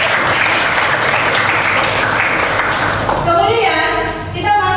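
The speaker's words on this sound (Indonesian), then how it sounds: "Tepuk tangan dulu." A classroom of students applauds steadily and loudly, with young voices calling out over the clapping before it fades near the end.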